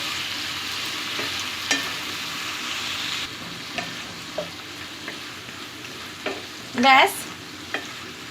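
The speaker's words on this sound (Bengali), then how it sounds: "মাথাগুলো দিয়ে মশলার সাথে আমি একটু ভালো করে এপাশ ওপাশ করে মিশিয়ে নিচ্ছি।" Prawn heads being stirred with spices in a pan, a soft steady sizzle with scattered scrapes and taps of the spoon, one louder scraping clatter near the end, close and alone.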